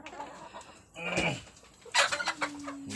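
Chickens on a hillside farm clucking and squawking nearby, with a louder burst of calls near the middle and again toward the end over a low, steady background.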